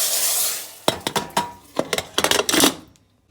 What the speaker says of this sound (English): I'm gonna let those garlic fry up a little bit more to get on the browner side